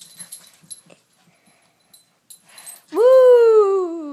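Goldendoodle and maltipoo playing together: soft scuffling and small noises early on, then a loud, drawn-out whining howl rising and slowly falling near the end.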